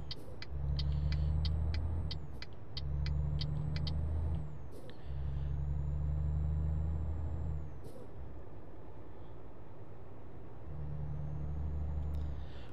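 Heavy truck engine droning through several long stretches in Euro Truck Simulator 2, driving eastward in France, broken by repeated sharp hissing bursts of air brakes.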